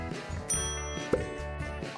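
A bell pressed a few times during a mystery box challenge gives short, bright dings over a busy background of music and other sound.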